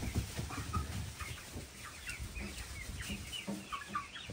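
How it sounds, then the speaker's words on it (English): Young Swedish chickens cluck and chirp steadily inside a new chicken coop in the morning, a dense overlapping chorus of many birds close by with no talking. "This is the morning of the first night with the Swedish chickens, the little ones in the new chicken coop."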